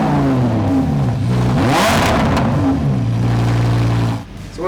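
A naturally aspirated V10 in a street-legal STO race car revs loudly, the engine note climbing and sweeping in pitch before easing back to a steady idle-like drone near the end.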